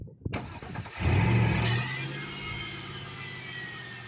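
A 2002 Chevy Tahoe with a no-crank, no-start fault cranks briefly, catches with a loud surge and settles into a steady idle, close by with no talk.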